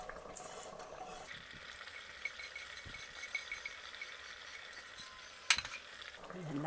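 Ash gourd kootu being stirred and mixed in a pan: a soft, continuous simmering hiss with faint scrapes and a sharp clink of the spoon against the pan near the end.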